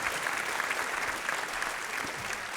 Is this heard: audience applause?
yes